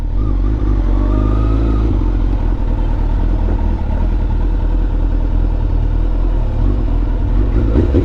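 A motorcycle engine running close by, a loud, steady low rumble that carries on without a break.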